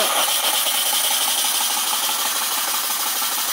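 A model toy steam engine from a Polish school, fed by a small boiler, runs with a continuous fast rattling chuff and hiss, steady and close, with no talking.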